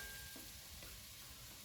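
Ginger dropped into hot oil, a soft crackling sizzle with a few small pops, faint and brief, no voices.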